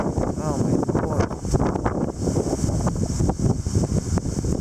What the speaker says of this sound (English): These random gusts